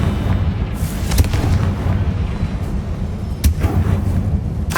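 A Confringo blast spell from Hogwarts Legacy explodes in a few booming bursts amid dense, rumbling game noise, with sharp peaks near the start and about three and a half seconds in.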